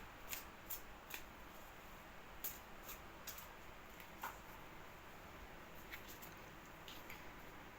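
Tarot cards being shuffled, soft close riffling and flicking in irregular bursts over a steady quiet background hiss.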